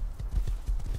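Rapid, rhythmic clip-clop of horse hooves in the survival game Rust, quiet and slightly distant, about eight soft thuds in quick succession with no voice over them.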